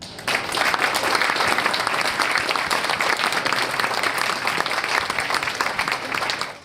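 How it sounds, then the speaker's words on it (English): Sustained, dense applause fills a hall as an audience honors an Internet Hall of Fame inductee, a loud, steady wash of many hands clapping at an awards ceremony. "please give a big round of applause to Raymond Tomlinson"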